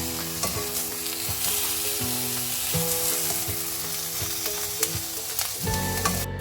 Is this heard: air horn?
no